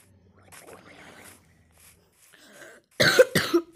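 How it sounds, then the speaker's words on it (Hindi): A couple of sharp, loud coughs burst out near the end after quiet, muffled background sounds. "सॉरी यार खांसी है भाइयों"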